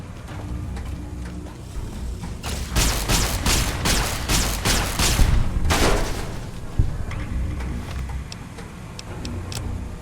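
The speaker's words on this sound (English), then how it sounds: "Hostile target identified. Firing weapons." Automatic weapons fire in Fallout: New Vegas, a dense rapid burst of shots over about three seconds with a later volley, then scattered sharp ticks and clicks over a low rumbling game ambience.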